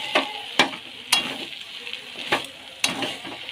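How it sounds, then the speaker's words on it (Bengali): Stirring and sizzling in a pan of browned meat, peas and potatoes, with sharp spatula scrapes at irregular intervals over a soft frying hiss. "এবার এটাতে জল দিয়ে দেবো"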